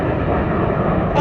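Red Arrows jets performing an airshow display pass overhead as a loud, steady broadband roar for a little over a second, with no pause in the noise.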